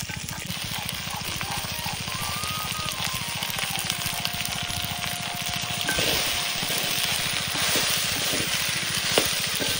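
Okra frying in a clay pot over an outdoor cooking fire, with a steady dense sizzle and crackle throughout and occasional stirring clinks.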